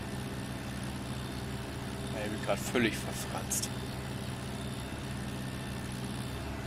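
A steady, low idling drone from a tractor engine in Farming Simulator 17, a constant rumble running under someone talking throughout.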